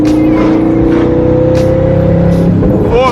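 A twin-turbo 2012 Ford Mustang Boss 302 accelerating hard in third gear, a loud, steady engine drone rising gently in pitch, heard close up with a brief shift-like change near the end.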